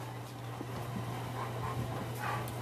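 Several dogs pant softly and rhythmically indoors, quick breathy huffs over a steady low electrical hum, with no talking.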